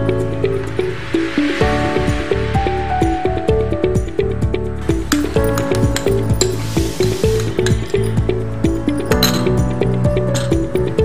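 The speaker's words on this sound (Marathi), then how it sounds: "त्याच्यामध्ये मला ही मँगो प्युरी आहे, फ्रेश मँगो प्युरी, ते मी टाकते." Fresh mango puree is poured into an eggless mango mousse mixture while a continuous, loud blend of wet squishing, splattering and clinking fills the whole stretch, with broad hissing swells and sustained tonal kitchen background.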